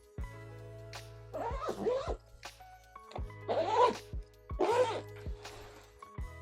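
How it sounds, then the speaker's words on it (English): Suitcase zipper pulled in several quick strokes, close and distinct, with short pauses and small taps between the zips. "And I'm going to zip it up."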